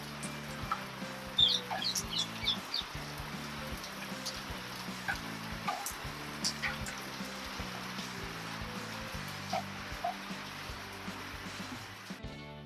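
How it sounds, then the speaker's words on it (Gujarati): Heavy rain pours steadily, a dense hiss with patter on surfaces, while faint birds chirp now and then in the background; no one speaks. "વરસાદ જોરદાર ચાલુ"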